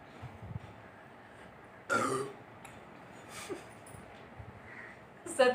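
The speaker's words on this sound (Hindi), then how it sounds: "सच में डकार आती है।" Burps from a woman after drinking a fizzy drink: a loud burst near two seconds, a smaller one mid-clip and another at the end, with faint low murmurs between.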